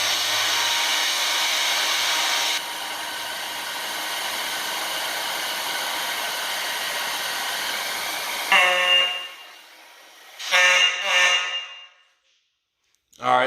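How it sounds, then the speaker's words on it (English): A hair dryer blows steadily to heat-test a System Sensor 5602 fire detector during a fire alarm system test, a continuous loud whoosh that cuts off near the end, followed by bursts of an electro-mechanical horn alarm. "let's go get the hair dryer"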